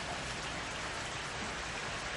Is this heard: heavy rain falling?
yes